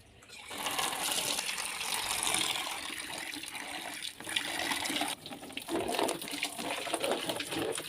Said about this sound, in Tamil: இது எல்லாத்தையுமே வாஷ் பண்ணிடலாம்.